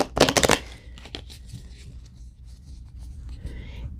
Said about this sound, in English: I'm going to go ahead and do one more shuffle